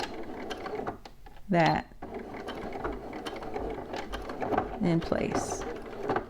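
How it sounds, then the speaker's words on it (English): A domestic sewing machine back stitches across a zipper on shorts or pants, giving a short whirring, clattering run of stitches in mechanical bursts, close by, with a voice speaking briefly over it. "I'm just going to back stitch"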